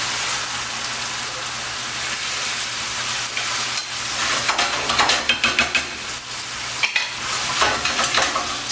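Tomatoes for a penne zucchini sauce bubbling in a pan: a soft, steady simmering crackle with scattered pops and a few louder stirring clatters toward the end, close and without talking.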